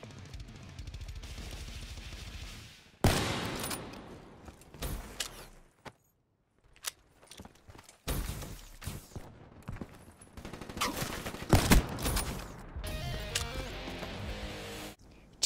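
Sniper rifle shots in a Black Ops 3 team deathmatch, several sharp loud cracks with reverberant tails spread unevenly across the stretch, broken by a brief near-silent gap and mixed with other game noise.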